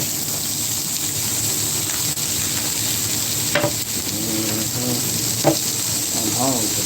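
Sausages sizzle while frying on a cooking surface for breakfast tacos, a steady hiss broken by a few utensil scrapes and light clatters, with some faint voice-like sound in the background.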